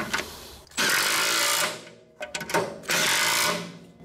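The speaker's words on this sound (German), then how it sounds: "So, Schrauben anziehen" Power tool whirring in two sustained bursts separated by short clicking pauses while screws are tightened on a worn rotor scraper of a Kemper 300plus/400plus mower header.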